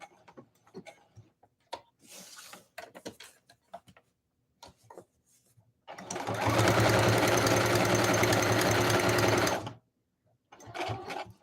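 A sewing machine stitches a seam across small fabric scraps for a journal cover, running loud and steady for about four seconds after scattered light clicks and handling noises, then stopping before a few more taps.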